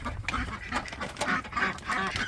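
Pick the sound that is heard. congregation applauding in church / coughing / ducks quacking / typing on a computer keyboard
ducks quacking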